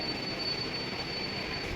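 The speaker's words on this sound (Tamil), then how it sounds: "மெட்ரோ ரயில்வே ஸ்டேஷன் சூப்பராக இருக்கா?" Metro train at a railway station on the Nanganallur airport line, a steady loud rumble of rolling wagons with wheel noise and a faint high squeal, continuous throughout with no talk.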